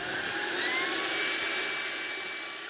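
A Levoit LVAC-300 stick vacuum cleaner runs with an accessory attached, producing a loud, steady high-pitched whine and airy rush that holds throughout and fades slightly toward the end.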